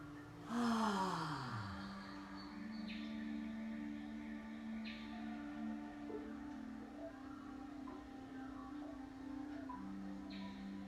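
One deep, forceful exhale is heard during child's pose yoga for lower back pain, loud at the start and then fading into quiet, soft breathing over a steady low tone.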